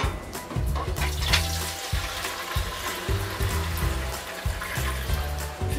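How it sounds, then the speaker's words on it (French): Hot water pouring steadily into a salad bowl for a homemade eco-friendly floor cleaner, a continuous close splashing stream with no talk. "Une fois que l'eau est chaude, on peut la verser dans le saladier."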